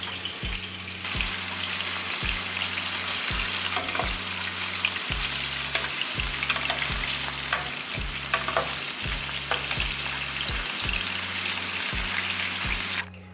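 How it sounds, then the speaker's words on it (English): Meat browning in a frying pan for a crock-pot chili verde, a loud, steady sizzle running throughout, with a low rhythmic thumping pattern beneath and occasional stirring clatter, no one talking. "I'm just going to go ahead and brown this meat."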